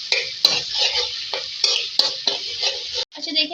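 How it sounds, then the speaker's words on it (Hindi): Ginger garlic paste frying in hot oil, a steady close sizzle broken by repeated scraping stirs of a spoon in the pan, with no talk. "इसमें मैं 1 खाने का चमचा अदरक लहसुन का पेस्ट ऐड कर दूँ और ये फ्राई करेंगे"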